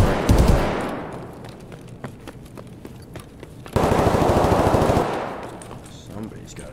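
Automatic gunfire from the shooter game Escape from Tarkov comes in rapid bursts, with one short volley at the start and a longer, louder sustained stream in the middle, between quieter stretches of distant shots.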